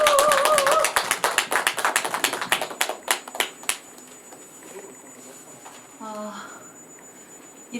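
Audience clapping to welcome a poet at a Korean book-launch talk, a dense burst of applause at first that thins into scattered claps and fades out, with a voice briefly heard near the end.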